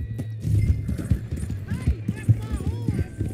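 In Red Dead Redemption 2, horse hooves clip-clop steadily while a horse whinnies, with people talking over the sounds.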